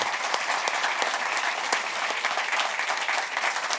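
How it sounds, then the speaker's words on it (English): An audience at a festival stage gives a panel a sustained round of applause, dense even clapping with sharp individual claps on top, steady and fairly close, with no voices over it. "I would like to end with a round of applause and a thanks to the panel"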